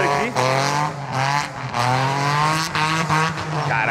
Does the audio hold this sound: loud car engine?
yes